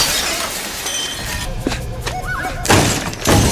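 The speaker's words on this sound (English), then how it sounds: "No, you don't have to beat up the door, pal." In a film scene, someone batters a door with heavy thuds and cracking, shattering impacts, loud bursts separated by short gaps.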